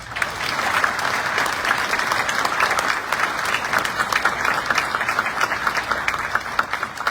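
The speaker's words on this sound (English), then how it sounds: "Let's give him a round of applause." An assembly crowd at an American Legion department convention gives sustained applause, dense clapping from many hands holding steady and loud for several seconds.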